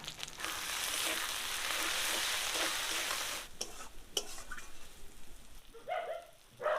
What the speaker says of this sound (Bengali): মশলা ভালো করে কষে নিয়েছি